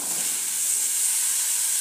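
Chayote pieces go into a pan of sautéing garlic, giving a steady, close, even sizzle and hiss that holds without a break throughout.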